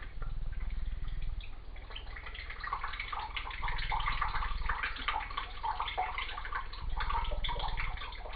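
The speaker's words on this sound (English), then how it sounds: "I'm just going to crack that open and pour out most of the syrup, probably all of it" Thick cherry syrup glugs and splashes steadily out of a freshly cracked can of cherries in syrup, pouring in a continuous, close, wet stream with pulsing surges and no voices over it.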